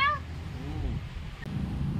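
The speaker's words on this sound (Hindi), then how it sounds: "यहाँ पर मैडम के पास एक छोटी छोटी सी बिल्ली भी है" A small cat at a roadside tea stall gives a clear, high meow at the start, then a softer, fainter mew, over steady low background hum.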